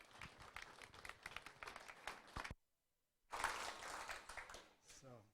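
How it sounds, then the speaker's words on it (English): An audience applauds a presenter at a 1 Million Cups Wichita morning event, with dense, close clapping that breaks off into a brief silence and then swells again. "So let's give him a round of applause."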